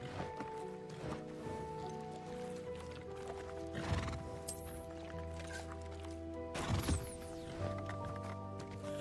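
Two horses whinny loudly at separate moments in Hogwarts Legacy against a steady background tune, with light hoof clopping between the calls.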